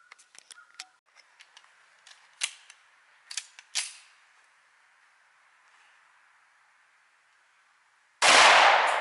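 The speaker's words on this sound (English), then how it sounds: "today I'm shooting my Dan Weston Silverback chambered in" Shots from a Dan Wesson Silverback pistol chambered in 10mm: a run of sharp, scattered cracks and clicks, then one loud, close blast near the end, with no talking.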